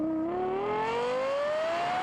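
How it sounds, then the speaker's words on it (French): A Lexus LFA supercar accelerates hard, its engine note climbing steadily in pitch as it revs up, loud and continuous with no talking. "voici une vidéo d'une LFA qui accélère"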